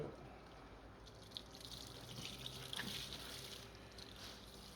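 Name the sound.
light water rinse of a tie-dye shirt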